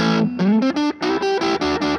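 Electric guitar on the neck pickup through a Crybaby wah pedal into a Vox AC30 amp, playing a short run of distorted notes with sweeping wah vowel-like shifts, loud and close, no talk.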